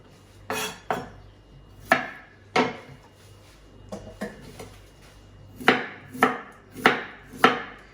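A kitchen knife slices a radish into rounds on a cutting board, about a dozen crisp, close chops in an irregular rhythm with short pauses between cuts.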